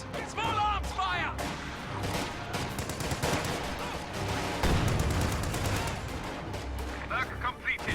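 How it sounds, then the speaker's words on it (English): Dense small-arms gunfire and heavier artillery bursts crackle continuously from a World War II strategy video game battle, loud rapid volleys with no voices. "Contact! Small arms fire!"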